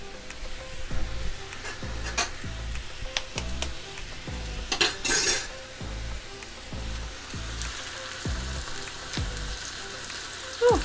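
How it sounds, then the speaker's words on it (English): Two eggs frying in oil in a pan for a home hibachi-style dinner, a steady close crackling sizzle with frequent scraping stirs and utensil knocks throughout, no talking. "So I'm just going to fry 2 eggs."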